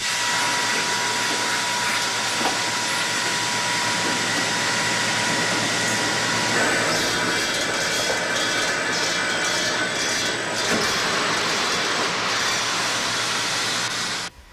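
Corn-feeding machine running on a duck foie gras farm: a loud, constant mechanical whir and rushing drone, steady throughout with no pauses and no voices.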